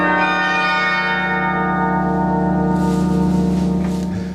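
The Rockefeller Memorial Carillon bells at the University of Chicago ring in a loud, sustained wash of overlapping tones, one note's hum lingering under the others.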